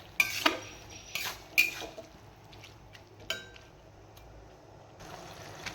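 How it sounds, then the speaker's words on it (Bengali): Fried potatoes being stirred in a cooking pan while a banana-flower curry (mochar ghonto) cooks, a few scattered scrapes and clinks of a utensil against the pan over a faint background, no voice. "আলুগুলোও আমি দিয়ে দিলাম, নাহলে আলুগুলো সেদ্ধ হবে না। দিয়ে আর একটু নাড়িয়ে নেব।"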